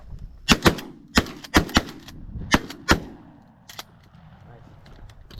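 Shotguns fire at pigeons during a two-man hunt, a rapid volley of about eight sharp, loud reports in quick succession, trailed by a couple of fainter shots and outdoor quiet.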